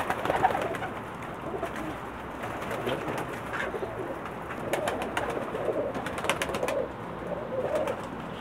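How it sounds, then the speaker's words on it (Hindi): Pakistani pigeons coo softly in low, murmuring calls over a busy background of bird chatter and faint clicks, moderately distant and without speech. "ये वो कबूतर हैं दोस्तों जो उस्ताद जावेद के पसंदीदा शानदार कबूतर हैं माशाल्लाह।"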